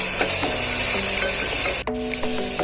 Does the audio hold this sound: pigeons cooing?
no